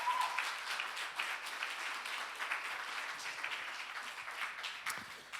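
Church congregation applauding, a fairly faint, steady wash of many hands clapping heard from a distance, sustained throughout without voices.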